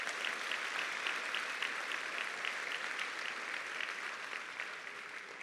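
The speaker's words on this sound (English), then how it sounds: "Give them another round of applause." An audience at a Latinx graduation celebration breaks into sustained applause, dense clapping from many hands filling the hall at an even level before tapering slightly toward the end.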